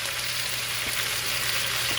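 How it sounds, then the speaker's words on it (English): Oxtail browns in a hot pot with a steady, dense sizzle and crackle, loud and continuous throughout with no talking. "I'm just gonna brown this off in the pot, get some flavor in it"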